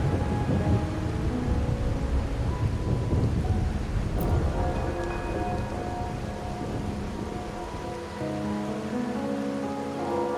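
Steady heavy rain pours with rolling thunder in the video game Wuthering Waves, a loud continuous wash whose rumble settles into softer rainfall on surfaces toward the end.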